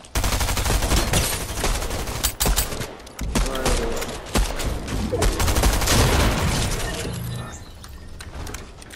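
Gunfire in the video game Ragnarok crackles in dense, rapid bursts with sharp impacts and shattering sounds, loud and close, broken by brief pauses.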